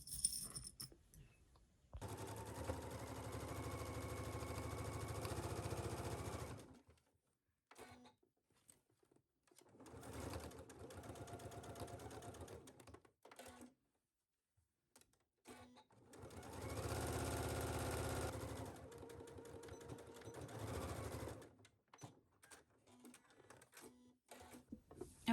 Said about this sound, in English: we'll sew this at 5/8 at our machine